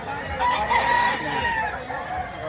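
A rooster crows at a chicken market in Lipa, Batangas, giving a drawn-out, wavering call that fills the moment, with faint market bustle in the background.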